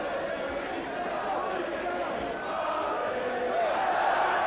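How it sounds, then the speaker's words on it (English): A boxing arena crowd roars and chatters steadily behind its fighter Jacob in the closing stage of a bout, a dense, continuous wall of voices that swells slightly toward the end. "Crowd starting to get behind their man, hoping to urge Jacob on to one last despairing effort"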